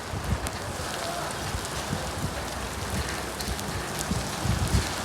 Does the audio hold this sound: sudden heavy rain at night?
yes